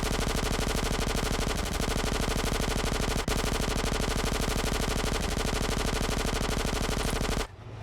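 Sustained automatic gunfire in GTA San Andreas rattles on in a dense, rapid, unbroken burst for about seven seconds, loud and steady, then cuts off abruptly near the end. No voices.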